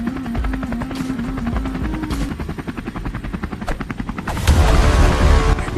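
A helicopter flies overhead as a sound effect in a comedy sketch: a steady rotor chop pulses loud and close throughout, with a rougher, heavier burst of rotor noise near the end.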